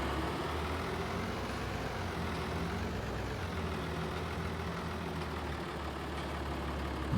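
Tractor engine idles steadily while warming up in Farming Simulator 22, a constant low rumble with a deep even hum that holds at moderate, close-up loudness throughout, with no talking over it.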